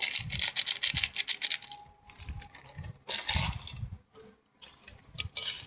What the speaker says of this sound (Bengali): লবণ হলুদ আর কাশ্মীরি দিয়ে আমি মাছটা মাখিয়ে নিয়েছি